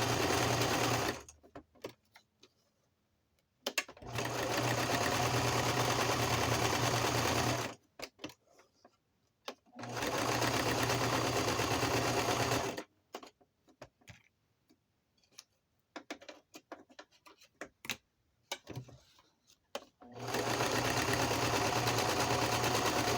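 Sewing machine stitching through paper ephemera for a Christmas journal, steady whirring runs of rapid needle ticks lasting a few seconds each, stopping and starting several times with quiet handling clicks in the gaps, loud and close.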